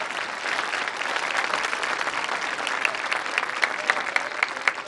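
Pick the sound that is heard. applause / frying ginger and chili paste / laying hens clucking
applause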